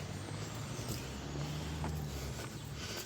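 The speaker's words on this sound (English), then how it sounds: "A lot of traffic around here, so you have to be extremely careful." Road traffic passes near Carlisle Pier in Dun Laoghaire, a faint steady rumble of vehicles with the low drone of a heavy engine and a brief hiss, all distant and continuous.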